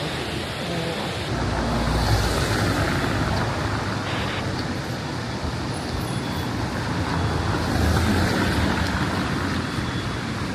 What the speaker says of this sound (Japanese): 水の音すごいな。